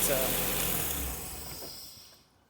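A Nissan SR20DET engine idles with a low rumble that fades away over about two seconds as it is shut off, leaving near silence, with someone talking over it.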